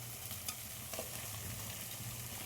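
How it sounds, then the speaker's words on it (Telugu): Mixed chicken dropped into a pan of frying ginger and garlic and stirred, giving a steady sizzle with a few faint utensil scrapes, fairly quiet and close. "కొంచెం ఎర్రగా అయిన తర్వాత ఈ కలిపిన చికెన్ వేసుకోవాలి."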